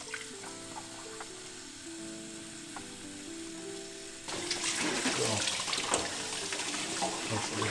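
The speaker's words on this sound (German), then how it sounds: "jetzt spülen wir den Film nur aus mit kaltem Wasser." Cold tap water runs steadily while photographic film is rinsed in a home kitchen darkroom setup, the flow surging louder and splashier partway through, close and continuous.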